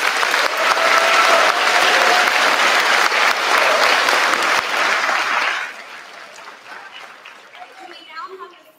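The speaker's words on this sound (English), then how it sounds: "Let's have a round of applause for all these graduates and award winners" Loud, full audience applause for graduates and award winners at a centennial graduation ceremony, sustained for about five seconds before dropping to scattered claps and crowd chatter.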